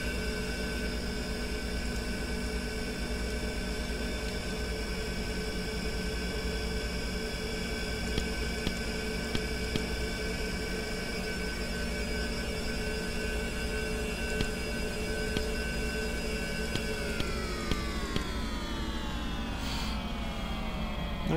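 A Bell 412 helicopter in a flight simulator, with a new sound mod and throttles pulled down. Its turbine whine runs steady and loud with layered tones, then winds down and drops in pitch near the end.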